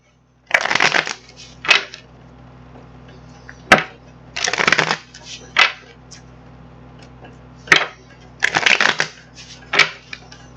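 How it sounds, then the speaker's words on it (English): Tarot cards being shuffled by hand in close, quiet bursts of riffling and snapping, several separate rounds with short pauses between them and no talking. "we're going to get these cards shuffled up"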